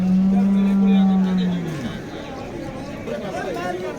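A water buffalo gives a long, low moo up close at a cattle market in Jagraon, followed by the murmur of a crowd and someone talking nearby.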